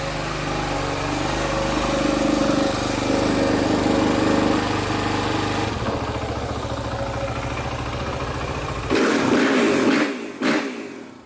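A Suzuki RMZ450 dirt bike engine runs steadily close by with a loud, continuous four-stroke chug, then its pitch shifts and it gives a couple of short blips of throttle near the end.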